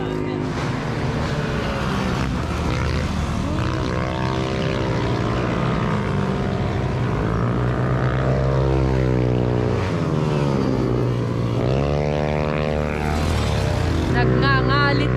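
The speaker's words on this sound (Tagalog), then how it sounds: "Nagngangalit na naman yung mga motor nila." Motorcycle engines rev loudly and continuously on a weekday ride along the Marilaque highway, rising and falling in pitch with strong wind rush, close and dominant throughout.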